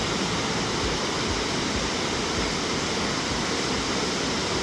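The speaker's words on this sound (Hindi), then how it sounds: "देखिए किस तरह संगम हो रहा पानी के दोनों।" Rushing water at the confluence of the Kali and Gori rivers at Jauljibi makes a loud, unbroken roar of broadband noise that stays level throughout.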